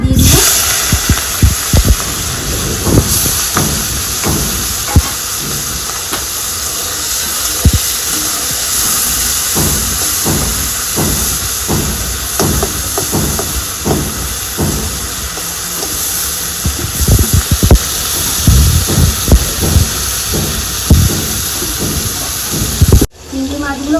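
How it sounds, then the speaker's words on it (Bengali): Prawns fry in very hot mustard oil in a wok, giving a loud, steady sizzling hiss close up, broken throughout by sharp crackles and pops. "চিংড়ি মাছগুলো কড়াইয়ে দিয়ে দিব।"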